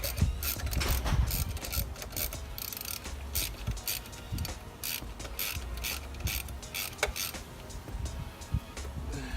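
A hand ratchet clicks and ratchets repeatedly while spark plugs are being changed during maintenance, with rapid uneven bursts of metallic pawl clicking, close and fairly loud, and no talking.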